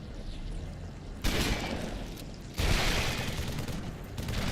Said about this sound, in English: Okay, plasma nades.